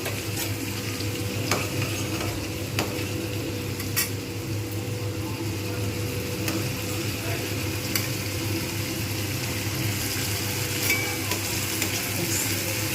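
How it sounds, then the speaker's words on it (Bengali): Spice paste sautés in oil in a pan for a vegetarian potato, pointed gourd and paneer dish, with a steady close sizzle and occasional light scrapes and taps of a spatula. "জাস্ট আমি এখানেই কষে নেবো।"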